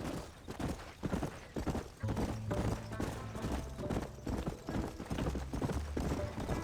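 Horse hooves clip-clop in a steady walking rhythm in the Red Dead Redemption video game, close and even, over a low sustained musical drone.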